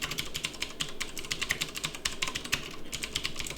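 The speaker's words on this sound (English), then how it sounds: "I'm just simply gonna type here the definition" Steady, rapid run of computer keyboard clicks, close and fairly loud, as a sentence is typed out without pause, with no voices.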